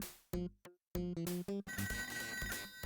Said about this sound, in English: Phone ringing is just map reveal.